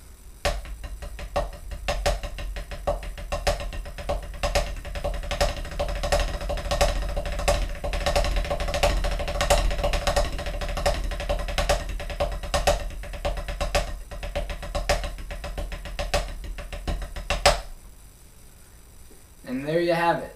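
Drumsticks play a fancy backstick pattern in right-left-left and right-right-left groupings, a fast, dense stream of sharp clicks and hits close up that continues for most of the stretch, then stops and briefly resumes.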